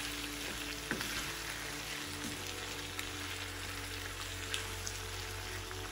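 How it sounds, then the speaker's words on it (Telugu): Prawns for a prawn curry fry in a pan after tomatoes, giving a quiet, continuous sizzle with scattered small pops and a soft low hum beneath, no voices. "రొయ్యలను కూడా 2-3 నిమిషాలు వేగనివ్వాలి."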